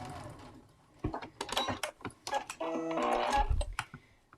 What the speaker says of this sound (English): we are going to run 1/4 of an inch seam all the way down here